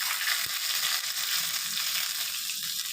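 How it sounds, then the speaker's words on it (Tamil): Tempering spices crackling and sizzling hard in hot ghee for rasam, a dense, bright, steady frying hiss with scattered pops, close and loud for a few seconds. "நெய்யிலேயே பொரிச்சு போடலாம்"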